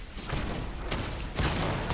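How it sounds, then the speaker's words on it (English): Shotgun blasts from Fortnite gameplay, two or three loud broadband bursts spaced across the moment amid constant game noise, with no talking. "if I start using my shotgun hits harder probably than 10 of these SMG shots"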